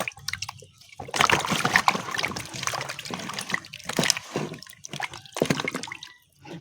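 Maize bran being washed by hand in water for a herbal chick remedy, with repeated splashing, sloshing and dripping in uneven bursts close by, no talk.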